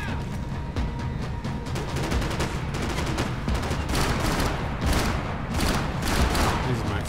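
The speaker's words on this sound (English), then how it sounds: "Gunfire over Hoboken." Rapid bursts of Max Payne 3 game gunfire crackle continuously, dense and steady, with heavier booms mixed in.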